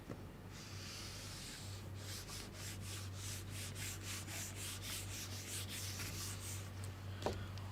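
Writing is rubbed off a classroom board during a maths lesson in a series of quick, rhythmic back-and-forth swipes, close and faint against a low steady hum, ending with a brief knock.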